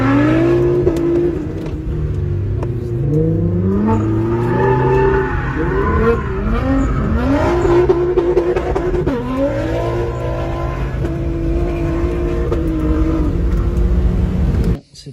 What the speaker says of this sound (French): Je vais aller tourner avec la GTR en mode drift.